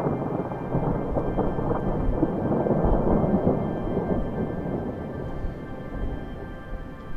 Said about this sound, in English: It is literally sleeting right now during a thunderstorm.